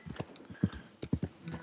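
A horse and cart pass by in the Red Dead Redemption 2 video game, with irregular hoof clip-clops and light wooden creaks heard faintly and at a moderate distance, no talk over them.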